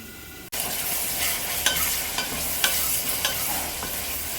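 Mutton biryani masala sizzles in a covered pot over a medium flame, starting after a brief silence and then holding a steady close frying hiss, broken by a few sharp ticks and pops.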